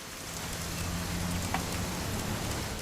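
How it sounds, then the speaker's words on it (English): Steady rain in What Remains of Edith Finch, a dense, even hiss of falling water that holds at one level, close and fairly loud, with no voices over it. "It's gonna rain the whole weekend"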